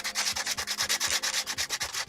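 Brisk, even strokes of sandpaper on a lightweight 3D printed RC airplane wing, a close, steady rasping rhythm with no voices.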